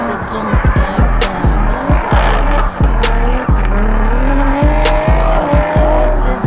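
An engine-swapped Mazda FD RX-7 drifts at a Friday night drift event, its loud engine droning with squealing tires, mixed under a thumping, steadily pulsing music beat.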